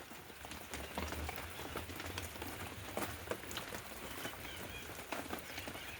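Rain falling steadily on succulent plants outdoors, a dense continuous patter with scattered sharper drop hits and no voices.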